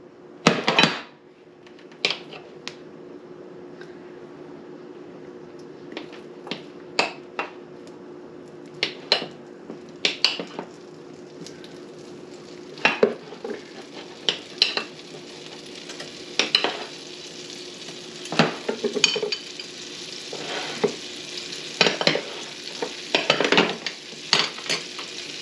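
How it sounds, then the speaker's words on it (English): Two tablespoons of butter added to a pan for garlic parmesan tortellini give a faint, steady sizzle, broken by sharp clacks and scrapes of a utensil stirring against the pan. "Now we're going to add in our 2 tablespoons of butter."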